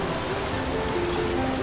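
The Storforsen rapids and waterfall in Sweden give a steady, dense rush of churning water. It is continuous and broadband, with no breaks.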